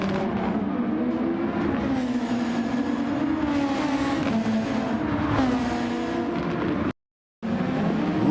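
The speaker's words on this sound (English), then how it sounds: "Look at the wheel spin." A Formula 1 car in the Project SF1 racing game spins its rear wheels, with a continuous high-revving engine whine rising and falling in pitch, broken by a short moment of silence near the end.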